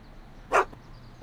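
A dog in a Back to the Future video game lets out one loud, close bark, followed by the start of a second bark, against a low background hum.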